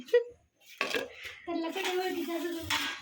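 Metal kadhai and cooking pots are handled up close, with a few short clanks and clinks while a voice talks over them.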